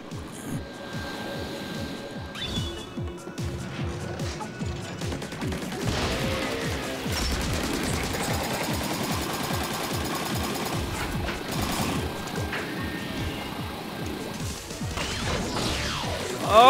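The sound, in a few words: ink vac weapon in Splatoon 3 video game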